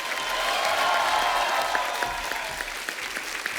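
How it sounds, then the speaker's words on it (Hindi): A studio audience at a comedy talk show claps loudly and steadily as a film actor arrives, dense applause with a faint crowd murmur that eases slightly toward the end. "जोरदार तालियां होनी चाहिए।"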